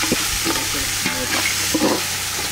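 Tomato frying in a pot for a village-style chicken gravy, crackling loudly and continuously while a spoon stirs and scrapes through it in irregular strokes, close up and dense, with no voices.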